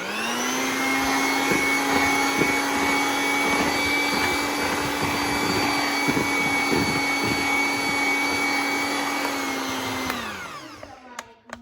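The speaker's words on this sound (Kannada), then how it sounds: "ಹಾಕ್ಕೊಂಡು ಇನ್ನೊಂದು ಸ್ವಲ್ಪ ಹೊತ್ತು ಅದನ್ನು ಬೀಟ್ ಮಾಡ್ಕೊಳ್ಳಿ" An electric hand mixer beats a dessert batter with cocoa powder for a chocolate layer, a steady loud motor whir running alone for about ten seconds before winding down and stopping.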